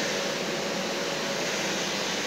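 Running on strong mode, a new home vacuum cleaner keeps up a constant, loud, nearby rushing drone with no pauses or changes in pitch.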